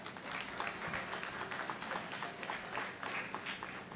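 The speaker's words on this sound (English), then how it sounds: "Let's welcome them with a big round of applause" Steady audience applause fills a kindergarten graduation ceremony hall at a school in Chennai, many hands clapping at an even, moderately distant level without a break.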